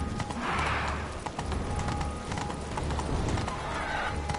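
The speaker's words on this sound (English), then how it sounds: "Whoa there, Roach." Horse hooves clip-clop steadily while a horse neighs loudly at the start and again near the end, from The Witcher 3: Blood and Wine, with no talk.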